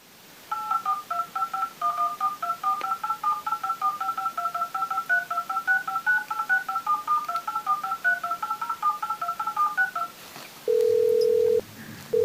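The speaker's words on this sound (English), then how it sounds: "phone up Sips and get him to sing the song and record it" Telephone keypad dialing tones while calling someone: a long rapid run of short, evenly spaced touch-tone beeps for about ten seconds, followed by a steady ringing tone, clear and close with no talk.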